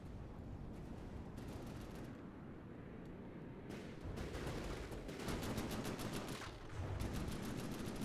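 Turret gunfire in From the Depths, a naval combat game: dense, rapid bursts of shots repeat over a constant roar of battle, loud and continuous for several seconds.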